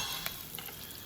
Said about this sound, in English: you actually start frying the rice and you coat the rice in oil